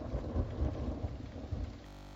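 Rain pours down steadily in a continuous broadband hiss with low rumbling, thundery undertones, then cuts off abruptly near the end.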